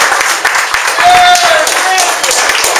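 An audience claps for a speaker at a holiday networking gathering, with steady, fairly loud applause mixed with crowd noise and a brief voice over it.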